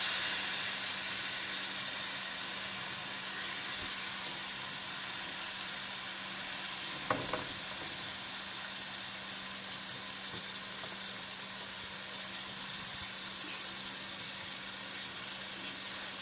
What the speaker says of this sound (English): And let's stir that up. Get all those vegetables stirred up.